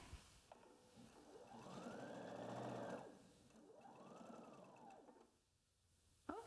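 A sewing machine runs a quarter-inch seam along fabric strips in two sustained whirring runs that rise and fall in speed, quiet and close, with no talk.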